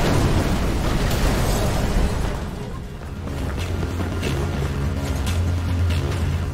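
A loud, rumbling bomb explosion in a film erupts with a heavy low boom, then settles into a sustained roaring rumble with crackling debris noise.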